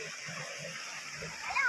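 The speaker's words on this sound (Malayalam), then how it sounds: "ഈ മീൻപിടിപ്പാറയിലേക്ക് പോകുന്ന വെള്ളത്തിൻ്റെ ചാട്ടമാണിത്." A small waterfall on a stream running toward the Meenpidipara rock gives a steady, even rush of falling water, and a low voice murmurs faintly beneath it.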